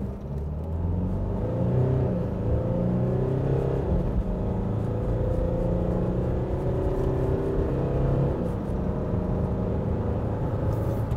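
A 2022 Nissan Navara dual cab ute accelerating hard from a standstill in a 0-100 km/h run, a steady loud engine drone with rising and shifting tones as it climbs through gears, heard from inside the cabin without talk.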